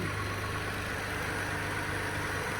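A 2017 Toyota Sienna AWD minivan idles in an open engine compartment, a steady, even low hum with a faint continuous whir and no talking.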